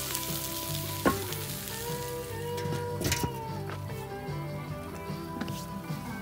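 A burger bun toasting on a camp cooking surface beside buffalo burgers, a steady close sizzle and crackle with occasional sharper pops and scrapes, no talking.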